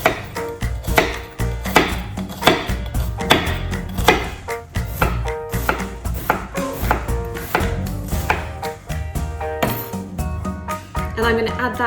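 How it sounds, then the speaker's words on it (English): Onion being diced with a knife on a cutting board for tomato sauce, a steady run of quick, close chopping taps against busy kitchen background sound. "So I'm going to dice this onion to start with."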